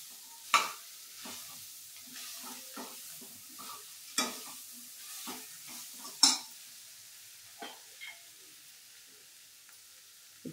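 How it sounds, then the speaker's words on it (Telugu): Vegetable pulao mixture with coriander is stirred in a pan, faint intermittent scrapes and knocks of a spoon against metal at irregular intervals over a quiet, low sizzle. "వేసి బాగా ముక్కలకి అంత పట్టేటట్టు కలబెట్టుకున్నాను."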